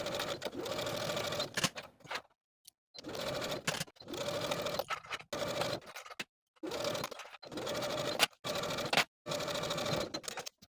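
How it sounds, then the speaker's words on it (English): Sewing machine edge stitching close to the inner fold around a dress sleeve hem, a soft rapid whirring in repeated bursts of one to two seconds separated by short pauses. "take it to your sewing machine and edge stitch close to that inner fold all the way around the bottom of the sleeve"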